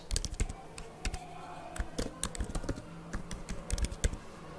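Fingers type on a computer keyboard, a close run of quick, uneven key clicks and taps in bursts, without speech.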